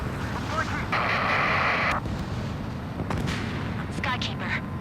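Missile blast in the Ace Combat 7: Skies Unknown air combat game, a loud rumbling burst over continuous jet and wind roar with further sharp hits following, radio chatter mixed in.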